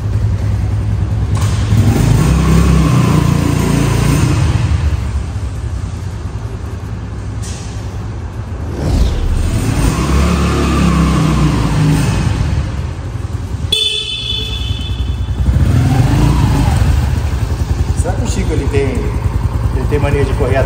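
A small Honda Pop 110 motorcycle engine rises and falls through several revving swells, close and loud, with traffic noise and a horn-like tone mixed in and speech underneath.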